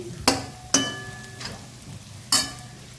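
Egg bhurji cooking in a pan, a low sizzle broken by three sharp utensil clanks against the pan, spaced irregularly, with no voices.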